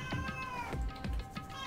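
A cat meows several times in quick succession near the microphone, with light keyboard-like tapping in the background and no talking.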